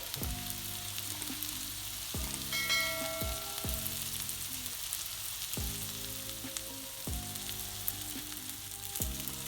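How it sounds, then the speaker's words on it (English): Salmon fillet frying in butter in a pan, a steady close sizzle throughout with several louder bursts of crackle and pan noise, no voices. "the salmon's cooking nice and the skin is becoming nice and golden brown"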